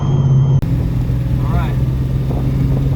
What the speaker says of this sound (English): that's 3000 RPM, 2500 RPM, and we'll see if the dash cam got any of that